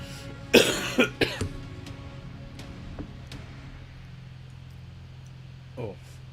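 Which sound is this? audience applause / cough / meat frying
cough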